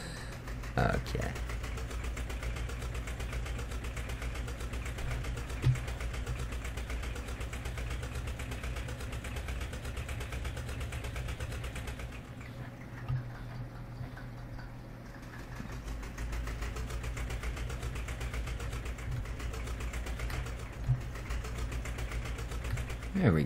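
A tractor engine idles steadily in the Farming Simulator 17 game, a continuous low mechanical rumble with a brief dip partway through, while someone talks over it.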